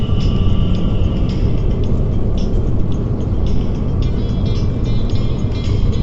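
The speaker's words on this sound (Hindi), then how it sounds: "गाड़ी मेरी बेटी ड्राइव कर रही है इस समय।" Car cruising on a highway through the Banff and Canmore area of Alberta, a loud, steady road and engine roar from inside the vehicle with faint passing traffic.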